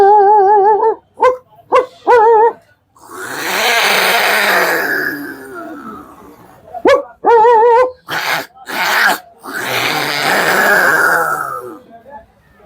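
A voice imitates a dog and cat fighting, alternating wavering meows with harsh barks and growls in loud, close bursts.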